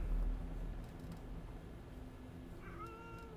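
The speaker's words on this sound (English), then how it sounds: "Meow, meow, meow, meow, meow." A cat meows near the end, a rising and falling call over a low, steady background hum, fairly close and moderately loud, with no talking.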